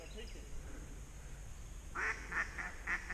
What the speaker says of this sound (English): You can hear them quacking.